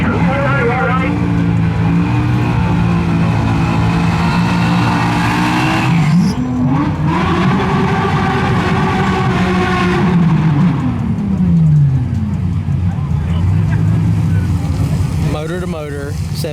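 A Chevrolet Monte Carlo SS and a Nissan Sentra in a quarter-mile drag race at a track, steady loud engine roar with rising and falling revs, while a commentator talks over it.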